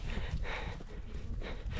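Hooves of a horse being ridden clop steadily at a walk on an outdoor path at a hillside memorial site near Bishkek, muffled under wind and background noise, with no voices.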